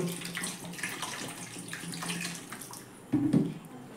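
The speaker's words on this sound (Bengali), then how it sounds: "এবার আমি নর্মাল টেম্পারেচারে থাকা জল ঢেলে ধুয়ে দিব" Room-temperature water poured over homemade mozzarella cheese in a container to wash it, a soft close splashing and trickling with a brief louder gush near the end.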